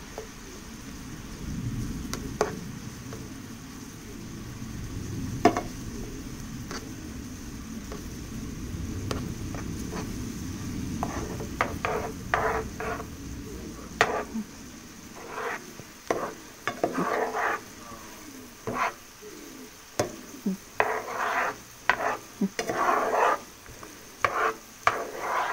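Lots of garlic sizzling in a pan, stirred with repeated scraping strokes over a steady close frying hiss, while Southern-style home cooking is underway.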